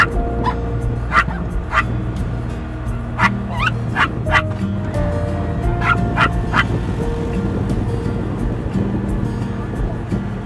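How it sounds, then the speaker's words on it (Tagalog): Chickens at a roadside poultry yard along a foggy mountain road, clucking and crowing repeatedly while a dog barks, all over a steady low drone from a Bajaj RE auto-rickshaw engine. "Ito yung tinatawag na manukan, kasi manukan. Manukan sa tabi."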